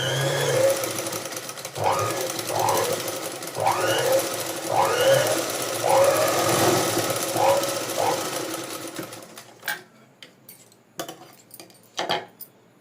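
A sewing machine stitching a pico edge on a saree, running in a fast steady mechanical whir for several seconds before stopping, then a few scattered clicks and knocks.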